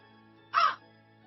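A single short crow caw from the video game Death and Taxes, clear and fairly close over a faint steady background hum.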